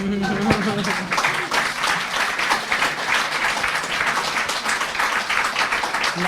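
An audience at a French talk on history and the future breaks into applause, a steady, continuous crowd clapping with a voice heard briefly over it near the start.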